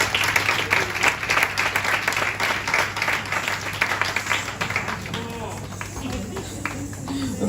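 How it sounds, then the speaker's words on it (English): An audience applauds after a classical Indian dance performance at a cultural centre anniversary celebration, sustained clapping that thins toward the end as a voice begins over a microphone. "A big round of applause, ladies and gentlemen, to Ms. Priyadashini Sanya and the students"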